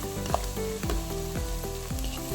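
Sliced onions sauté in a hot pan, a steady close sizzle with repeated scraping stirs of a spoon every half second or so, no voices.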